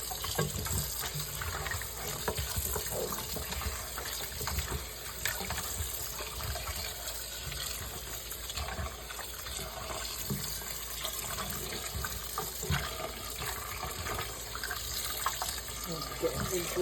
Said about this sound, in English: wash it again.